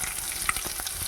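Onions frying gently on a low gas flame for upma, a soft continuous sizzle with crackle and one brief stir, close and alone.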